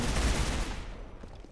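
A burst of rapid gunfire from the Counter Blox 2 shooter game, dense and loud at first and then fading into a rattling tail, with no talk.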